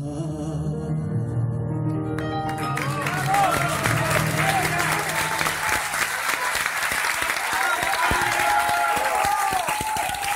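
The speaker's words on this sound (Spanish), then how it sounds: "un aplauso" Audience applause rings out after a tango song, starting with the last sung notes and swelling into sustained dense clapping from a crowd.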